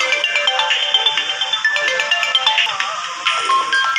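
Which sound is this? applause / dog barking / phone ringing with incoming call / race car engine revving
phone ringing with incoming call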